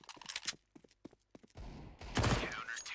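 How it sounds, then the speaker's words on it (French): Gunfire in a Counter-Strike match on Cache, rapid clusters of sharp shots followed by denser, louder bursts of fire, with faint speech mixed in. "Rodon qui va directement caler un gros headshot des familles à Evenstars"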